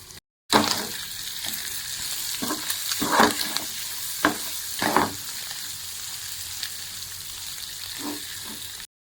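Chicken fry sizzling in a pan with coriander powder and chicken masala, a steady frying hiss broken by several sharp stirring scrapes and clinks of a spoon, no talk.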